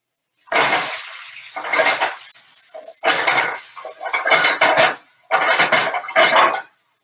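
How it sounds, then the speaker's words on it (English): Beans with onion in a pan get stirred in three bursts of scraping and clinking utensil strokes, close and fairly loud, with brief silent pauses between them. "But let me give my beans a stir"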